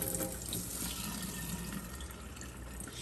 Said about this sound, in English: I'm going to drain this water off.